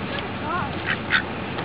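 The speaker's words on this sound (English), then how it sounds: "what were you expecting, ducks?" Ducks quacking outdoors in Stockton wildlife habitat, a few short nasal calls around the middle, moderately close, over steady background noise with some voice activity.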